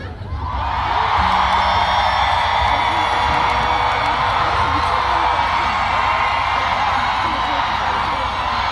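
A festival crowd at the Beautiful Mint Life outdoor concert roars and cheers for a singer, a dense, sustained wall of shouting and whooping from a large standing audience that swells in after a second and holds steady.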